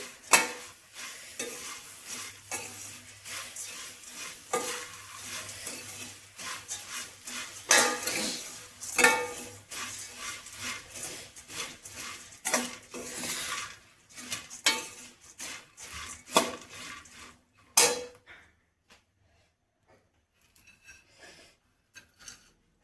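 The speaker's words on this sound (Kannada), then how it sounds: "ಕ್ಯಾರೆಟ್ ತುರಿನ ಹಾಕ್ಕೊಳ್ತಾ ಇದ್ದೀನಿ ಇಷ್ಟನ್ನು ಹಾಕ್ಕೊಂಡ್ಮೇಲೆ ಮತ್ತೆ ಒಂದ್ಸರಿ ಚೆನ್ನಾಗಿ ಮಿಕ್ಸ್ ಮಾಡ್ಕೊಳ್ಳಿ" Masala churumuri being stirred with grated carrot in a bowl produces repeated scraping, rustling and clinking strokes of a spoon against the dish, loud and close, then stopping near the end.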